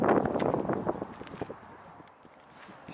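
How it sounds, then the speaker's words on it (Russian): Strong wind gusts buffet the microphone at an outdoor used-car market in Minsk, a rough rumbling roar that is loudest at first and then eases into a fainter rush. "сильный ветер"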